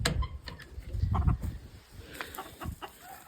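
Farm chickens cluck and scratch on ground turned over with rabbit manure, making scattered soft clucks and rustling, moderately close, with no speech.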